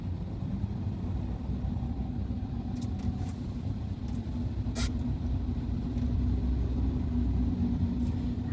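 Porsche 992 and 991 GT3 cars on a wet Nordschleife, a steady low engine rumble with road and spray noise that swells slightly toward the end.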